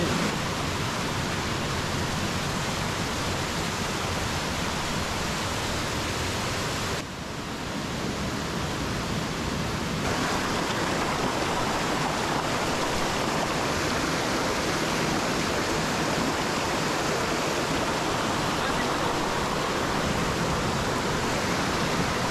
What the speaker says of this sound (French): Une cascade.